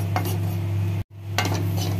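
Spaghetti ingredients stirred and fried in melted butter in a pan: a steady low sizzle with a couple of spoon scrapes, broken by a brief silent cut partway through.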